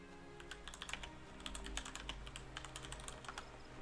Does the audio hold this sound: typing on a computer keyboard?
yes